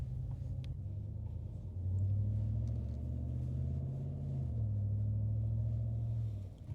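2019-or-newer Ram 1500 pickup truck driving after a transmission reset for clunky shifting into first gear, heard from inside as a steady low engine and road rumble with gentle rises and falls in pitch as it shifts.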